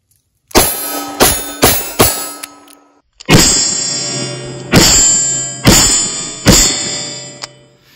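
A Thunderstruck .22 WMR revolver fires two bursts of sharp, ringing reports outdoors: four quick shots, a short pause, then four more, each a loud crack with a metallic ring and a brief decaying tail.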